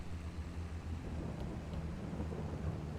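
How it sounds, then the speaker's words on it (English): Rain falling on a miserable rainy morning on a John Deere farm, a constant soft hiss of drops with low rumbling underneath, steady and fairly faint throughout with nobody talking. "Miserable rainy morning."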